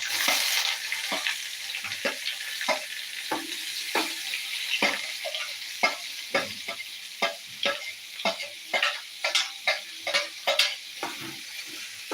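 Onions fry in a hot pan for Kerala-style breakfast cooking, a steady sizzle broken by regular scraping stirs with a spatula, close and clear without talk.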